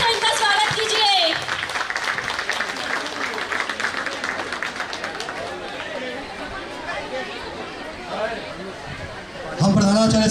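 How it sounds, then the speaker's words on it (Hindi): Loud applause from a school audience at Shree Mandhari High School welcomes a guest onto the stage, a sustained burst of many clapping hands mixed with crowd chatter that fades slightly before a voice returns at the end. "जोरदार तालियों से इनका स्वागत कीजिए।"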